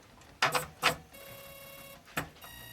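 An Epson ET-2710 printer making its reset noise: a few sharp mechanical clacks, then a short whirring motor tone and another clack, quiet and close.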